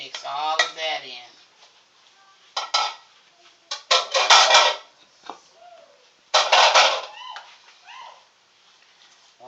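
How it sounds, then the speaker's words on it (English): Onions and peppers being worked into Cajun sausage meat, with irregular bursts of clattering bowl and utensil contact and squishy mixing, loud and close, separated by brief quiet gaps and faint background voices. "All of our vegetables, our onions and peppers and all of that, we're going to mix all of that in."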